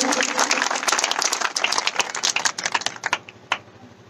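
Crowd clapping at an outdoor political rally speech in Chhindwara, Madhya Pradesh, a dense patter of many hands that thins and fades over a few seconds.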